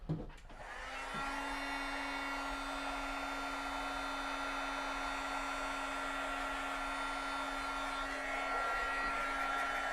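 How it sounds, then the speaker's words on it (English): A hair dryer blows a steady whirring stream of air over a freshly sprayed craft item, starting with a brief click and then running loud and unbroken throughout. "Now I'm going to dry it while Sean's messing with that."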